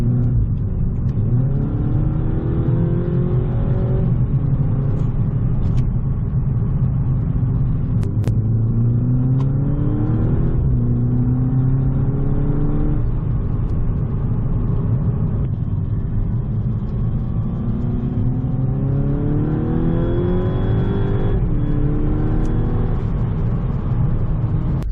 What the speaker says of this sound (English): do some driving for sound bites, and then do a little bit of revving and show you guys what it sounds like